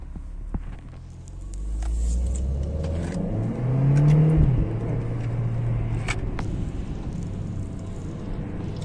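A Renault Clio 4 RS Trophy engine revs up with a deep, loud rumbling roar that swells and falls back, with crackling pops on the overrun and steady throaty running between blips.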